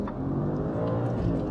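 A manual V8 Audi S4 accelerating hard, its engine note climbing in a strong, steady roar heard from inside the car, loud and close with no talking over it.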